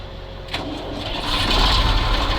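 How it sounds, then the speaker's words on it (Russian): A MAZ truck diesel engine cranks and catches, rising from a starter whir into a loud, steady rough idle with broadband rumble, recorded close by outdoors. "ЗИЛ запустили, он накачивает воздух, а сейчас запускаем МАЗ."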